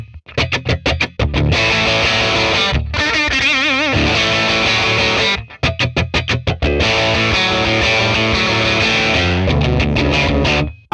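A Telecaster electric guitar played through a 1966 Fender Blackface Bassman amp, loud driven chords and riffs with rhythmic strummed stabs, short pauses between phrases, heard alone.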